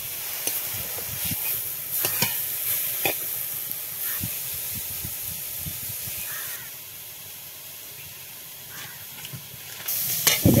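Cabbage frying in a pan gives a soft, steady sizzle with occasional scraping stirs from a spatula, fairly quiet and continuous with a few sharper clicks.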